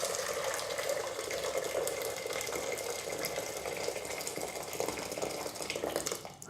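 Boiling water pours from a kettle into a pan to parboil Brussels sprouts, making a steady rushing, splashing stream for several seconds that tapers off right at the end.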